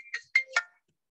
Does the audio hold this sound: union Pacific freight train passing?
no